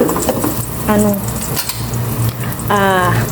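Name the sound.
sautéing corn in a pan, sizzling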